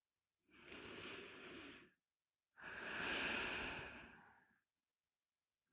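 Two slow, deep breaths during a guided meditation: a long airy inhale-like rush, a pause, then a longer fuller exhale, close and quiet with silence between.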